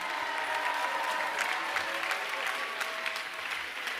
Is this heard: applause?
yes